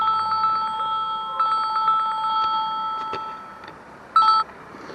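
A telephone rings in repeated short electronic trilling bursts, close and fairly loud, with a brief louder beep near the end and no talk.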